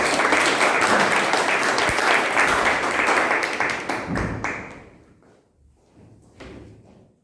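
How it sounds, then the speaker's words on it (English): A large audience applauds to welcome a speaker at a Toastmasters club meeting, a steady dense roar of clapping that fades out over the last few seconds with a few scattered claps at the end. "with a huge round of applause, please welcome Toastmaster Aparna Bushes."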